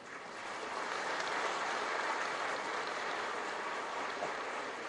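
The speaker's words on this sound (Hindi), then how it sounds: "इतनी तालियां चलेगी क्या?" An audience in an auditorium at a university convocation ceremony in Bhopal applauds in a steady, even wash of clapping that swells in over the first half second and then holds at a soft, distant level.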